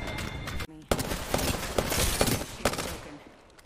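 Rapid bursts of automatic gunfire from the video game Apex Legends ring out close and loud, broken by a short pause before sustained firing resumes and then fades, with a player's voice mixed in.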